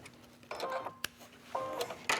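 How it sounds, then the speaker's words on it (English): A home sewing machine runs a very small backward securing stitch in two short bursts of whirring with clicks and a sharp tick between them, quiet and close. "Then I'm going to sew backwards with that very, very small stitch."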